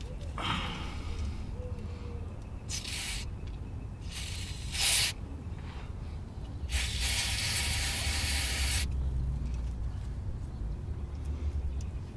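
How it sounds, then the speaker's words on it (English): Electrical cleaner is sprayed during a limited-slip solenoid replacement on a 2007 Jeep Grand Cherokee. Several short hissing aerosol bursts are followed by one longer spray, close and distinct over a low background rumble. "Little electrical cleaner."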